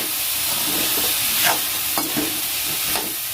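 Vegetable curry cooking in oil in a pan on a home stove, a steady close sizzle and hiss with a few brief sharper crackles and stirring scrapes, no voices.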